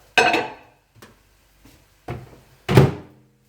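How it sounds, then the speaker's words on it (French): A microwave door shut for reheating rice, heard as a few dull knocks and clicks ending in one solid, close thunk. "On le met 40 secondes au micro-ondes."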